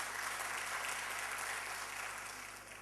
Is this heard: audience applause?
yes